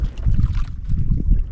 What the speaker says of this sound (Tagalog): May bangka pre, lumapit pre.